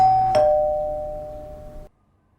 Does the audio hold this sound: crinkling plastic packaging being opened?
no